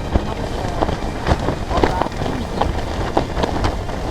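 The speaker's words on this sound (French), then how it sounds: "Vous devez entendre beaucoup de vent d'ailleurs. Ça claque avec les tentes." Strong wind buffets a camp on a Nordic ski trip in Svalbard, with broadband gusts and irregular flapping slaps from tent fabric, steady and close throughout.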